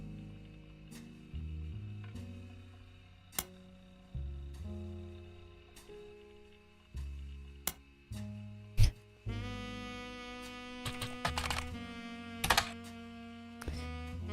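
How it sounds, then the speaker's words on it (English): Keyboard typing in the detective game The Roottrees are Dead, with irregular clicks and sharp key taps over soft background music, a dense flurry of keystrokes near the end, and no talking. "Can I make the typing sound louder?"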